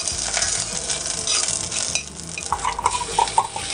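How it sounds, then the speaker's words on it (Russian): Olive oil sizzles steadily in a pan with chopped onion, garlic and thyme while a utensil stirs and scrapes, with a few light clinks of cookware near the end. "Жарим."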